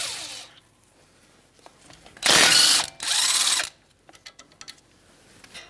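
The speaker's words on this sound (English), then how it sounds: "we're going to use a 17mm and remove our caliper slide bolts" A ratchet fitted with a 17mm socket loosens the brake caliper slide bolts on a 2016-2022 Honda Pilot. Two loud, close bursts of rapid clicking are followed by a few lighter metallic taps and clinks, with no talking.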